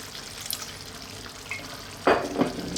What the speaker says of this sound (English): Now what we want to do is add a little bit of water.